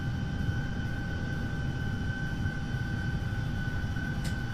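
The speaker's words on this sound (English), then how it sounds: "A340-300 takeoff." A simulated Airbus A340-300 at full takeoff power in X-Plane 12, heavy at maximum takeoff weight: a steady, loud rumble of engine roar with a sustained whine running through it, holding even throughout, with no voices.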